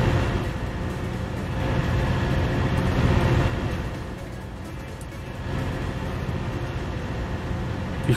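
A train in Euro Truck Simulator 2, a low steady rumble with a mid-clip swell, like a locomotive idling and then starting to move, heard against continuous game ambience.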